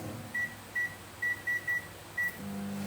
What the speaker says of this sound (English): we are going to pop that into the microwave